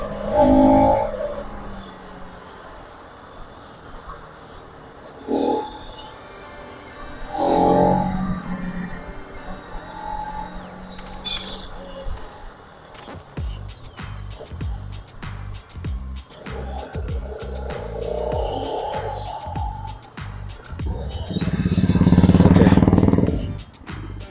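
A Bajaj Pulsar RS200 motorcycle rides in first gear, its engine droning and rising in pitch through revving surges, with a louder rev near the end over road and wind noise.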